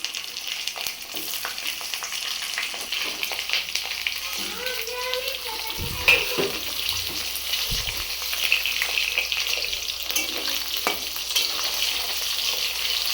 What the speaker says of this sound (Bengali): ছোট ছোট করে আলু কেটে তেলের মধ্যে একটু নাড়াচাড়া করে নেওয়া হবে